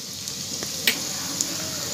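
Ground coriander and cumin powder with ginger paste and turmeric sizzling steadily in a hot oiled pan, a close, constant crackle with small pops and a faint stir, no talking.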